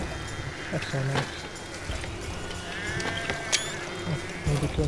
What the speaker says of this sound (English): Oh, look at all those sheep.